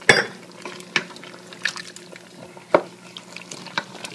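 Carne guisada being stirred in a pot, with Cabernet recently added, gives scattered clinks and scrapes of a utensil against the pot over a soft wet simmer, close and moderately quiet, with no talking.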